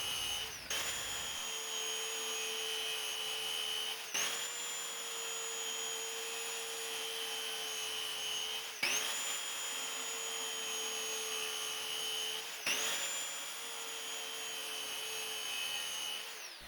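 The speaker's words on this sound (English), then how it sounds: "So I use a circular saw for these cuts." A circular saw cuts a long wooden board, its high steady whine holding through the cut and dipping briefly three times as the load shifts, with no voices.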